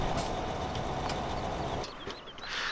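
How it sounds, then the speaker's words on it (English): A tractor engine runs in Farming Simulator 17 on PS4 beside a Rabaud Xylochip 500T wood chipper mod, a loud steady low rumble that drops briefly near the end with a few faint high chirps. "And the tractor is on."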